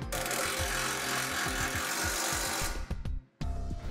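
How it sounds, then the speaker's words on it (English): A power tool tightening bolts while installing a Blue Ox base plate kit on a 2009 Dodge Ram pickup: a loud continuous whirring drive with rapid rattling impacts, cutting off briefly before starting again. "we'll go ahead and tighten down all the bolts."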